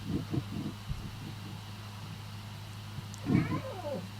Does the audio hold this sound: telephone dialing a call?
no